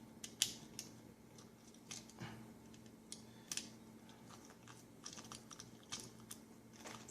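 Small screws being removed from an Xbox One controller shell with a screwdriver, faint close clicks, light metallic ticks and scrapes in a quiet room.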